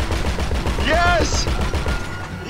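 Rapid gunfire from a mounted gun in the Grand Theft Auto 5 video game rattles loud and close, with other game sounds and an excited voice mixed in over the burst.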